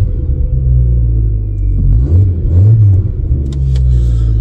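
A car with an automatic gearbox idles right after starting, a loud steady low rumble close by with slight revving swells throughout.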